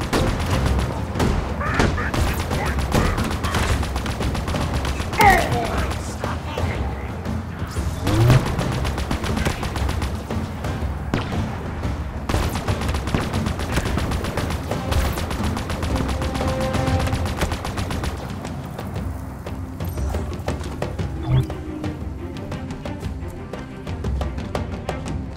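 Heavy gunfire in the video game Halo Infinite, with sustained automatic bursts, explosions and booming impacts layered over a loud, dense soundtrack throughout, and occasional game voices mixed in.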